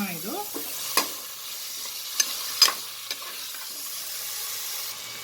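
Kabuli chana and coriander being stirred in a pan for pulao, a faint steady sizzle broken by a few sharp utensil knocks against the pan, with a brief voice at the start.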